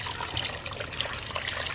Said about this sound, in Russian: Обязательно заливаем все это холодной водой.